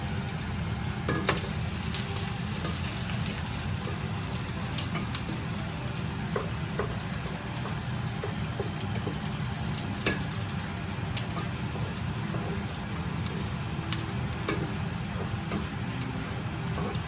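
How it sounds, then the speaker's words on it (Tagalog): Pancit stir-fried in a pan, a dense continuous sizzle with scattered clicks and scrapes of a stirring utensil, steady and fairly close throughout, no talking. "Aurelia in the house cooking some pancit"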